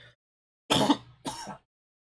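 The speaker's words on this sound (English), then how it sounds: "Man, I still got that cough." A single person coughs twice in quick succession, a harsh, close throat-clearing burst followed by a shorter second cough, with silence around them.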